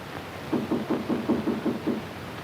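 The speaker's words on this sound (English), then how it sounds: "got to sleep when I heard this knock on the door." Seven even knocks on a door in a 1947 film noir, a steady rhythmic series at moderate loudness, slightly muffled as if heard from inside a room.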